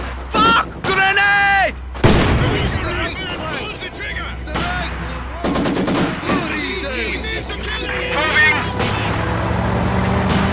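Wartime combat in the Stalingrad setting of Company of Heroes: rattling gunfire, sharp shots and heavy booms that include a grenade blast, mixed with soldiers shouting throughout.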